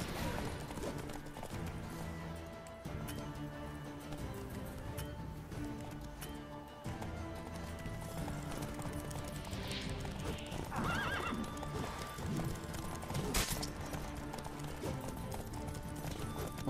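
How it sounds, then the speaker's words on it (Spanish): Hooves clip-clop in a quick galloping rhythm while a horse neighs and whinnies in The Witcher 3 video game, mixed with game music and scattered effects at moderate loudness. "Qué difícil es combatir a caballo."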